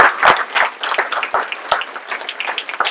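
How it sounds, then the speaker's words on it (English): A modest room of attendees at a mobile tech talk claps, with individual sharp hand claps standing out at first before blending into a lighter, uneven patter. "let's have a big round of applause"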